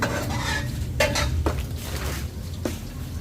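Metal spatula stirring a sautéed mix for pansit in a pan, scraping and clanking several times against the metal over a soft background sizzle, with no voices.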